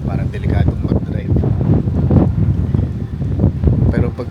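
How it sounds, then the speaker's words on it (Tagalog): Strong rain and wind during a rainy Christmas in California, heard as a dense, steady roar of gusts and downpour buffeting the microphone for the whole stretch, loud and close, with no talking. "sobrang lakas nga ng ulan tsaka hangin"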